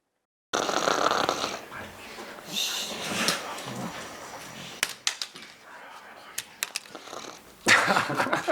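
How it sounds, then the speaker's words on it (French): A person snores in a quiet room among teenagers in a student film, with several long rasping breaths early on, then sparse clicks and small movement noises before another snore-like breath at the end. "Arrête de ronfler, là."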